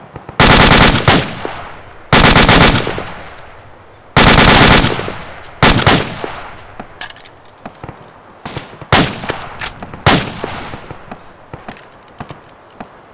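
Bursts of automatic gunfire in a military shooter game, loud close volleys at the start followed by scattered single shots and shorter bursts.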